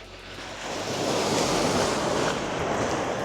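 Big ocean waves break and roll with a steady, loud roar of surf that swells and holds, mixed with wind buffeting the microphone and no voices.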